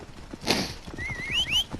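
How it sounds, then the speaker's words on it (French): A horse summoned in the Assassin's Creed Origins video game: a sharp whistle-like call, then hooves clopping closer and a loud, rising neigh near the end. "on peut appeler un cheval"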